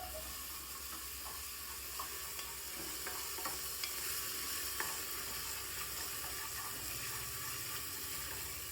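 Crushed ginger and garlic fry in hot oil for a chicken curry, giving a steady, fairly faint sizzle with occasional small pops and light stirring scrapes throughout.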